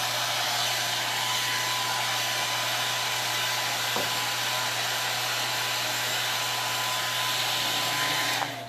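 A hair dryer blows steadily and loudly to dry a decoupage napkin craft, its constant rushing whine holding for about eight seconds before cutting off at the very end.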